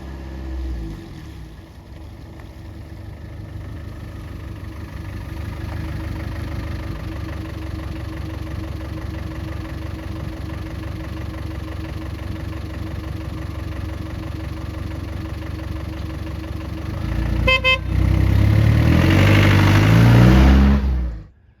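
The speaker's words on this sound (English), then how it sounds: "This is a 1998 Land Rover Defender 110 pickup with the 300 TDI" A 1998 Land Rover Defender 110 pickup with the 300Tdi diesel idles in a steady, loud rumble, then revs hard near the end before shutting off abruptly, with no talking.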